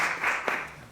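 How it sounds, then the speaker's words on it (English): Brief burst of audience applause for a vocalist at a klezmer band concert, a dense wash of clapping from a crowd that fades over about a second. "We should clap for her."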